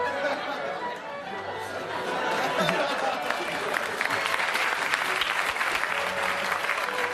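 Studio audience at a Saturday Night Live sketch breaks into sustained applause, a dense roar of clapping that swells and holds, mixed with chatter and scattered laughter.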